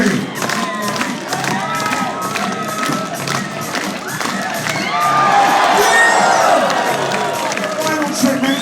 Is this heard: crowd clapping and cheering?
yes